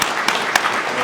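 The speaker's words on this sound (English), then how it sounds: "Please give her another round of applause." Audience clapping at a police academy recruit graduation ceremony, a brief, steady burst of applause with a few sharper claps standing out.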